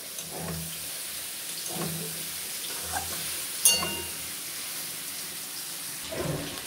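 Soybean and potato curry frying in a pan is stirred, with soft intermittent scraping and stirring strokes over a faint steady sizzle, plus one sharp clink partway through.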